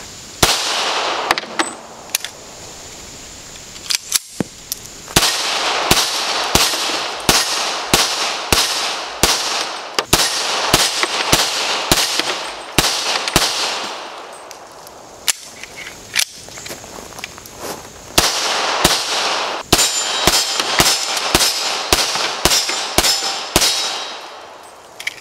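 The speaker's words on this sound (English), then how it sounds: "There was another 200 rounds through my Dan Wesson, 40 Smith & Wesson, 1911" A Dan Wesson 1911 pistol chambered in .40 Smith & Wesson fires many loud, sharp shots in quick strings, with short pauses and clanking between the strings and no talk.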